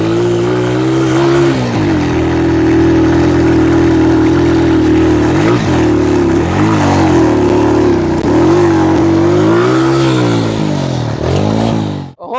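A Rahro 125 motorcycle engine labours up a steep dirt slope, loud and close, its note rising and falling with repeated throttle surges and gear changes, then cutting off abruptly at the end.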